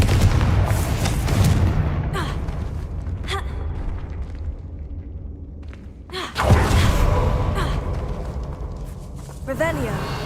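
Confringo spell blasts going off in the Hogwarts Legacy video game: booming explosions with a rumbling low end, a loud burst near the middle followed by sustained crackling roar, with a voice casting spells at the start.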